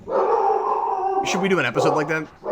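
A dog howls in a drawn-out wavering tone for about a second, then a person speaks over the continuing yips and barks in the background.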